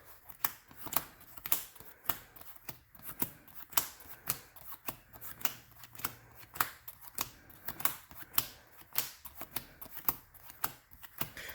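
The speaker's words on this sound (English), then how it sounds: "what do you say we give this one good hard shuffle?" A Marincess trading card deck is shuffled hard, giving a close, steady run of crisp riffling clicks and snaps in quick rhythmic bursts, with no voices.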